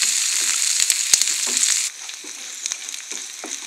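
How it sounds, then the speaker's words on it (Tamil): Sliced onions and a few cashews sauté in hot oil, a close sizzle punctuated by scraping stirs that drops noticeably quieter midway, then continues with soft crackles and stirring. "வெங்காயம் முந்திரி பருப்பும் நல்லா வதங்கிருச்சு."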